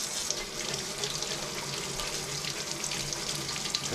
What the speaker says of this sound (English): I'm just going to run it under regular water and just brush it lightly